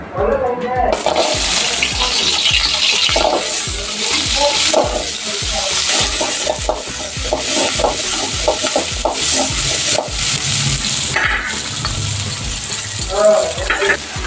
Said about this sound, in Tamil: சூடான உடனே எண்ணெய் போட்டு சின்ன வெங்காயம்,